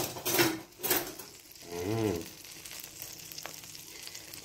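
Butter melting in a pan with a light, close sizzle and crackle, broken by a short tonal whine midway and a few quiet clinks.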